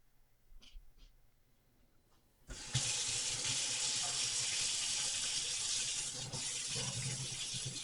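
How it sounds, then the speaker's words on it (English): A kitchen tap turns on and runs steadily at close range to wet hands, a loud continuous gush of water following a few quiet clicks and handling sounds. "I'm going to wet my hands this time."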